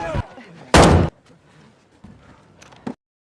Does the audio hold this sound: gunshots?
yes